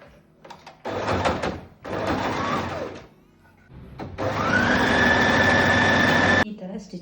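A domestic sewing machine stitches a folded edge on a blouse at a quarter inch, running in short bursts and then one long steady run with a whining motor tone. Pauses between runs leave near silence.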